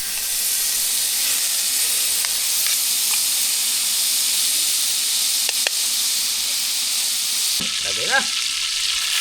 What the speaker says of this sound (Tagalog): Pagpirito sa lapu-lapu.